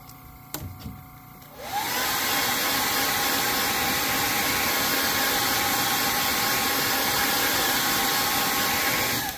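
After a couple of faint clicks, a heat gun roars on and keeps up a loud, steady airy whoosh while it heat-sets airbrush paint on a Hinko Mini KO.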